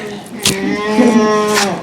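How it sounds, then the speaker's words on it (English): A toy sound device gives a single drawn-out electronic cow moo, loud and close, with a brief click at the start and another near the end. "He can go like a cow. He can go moo, moo."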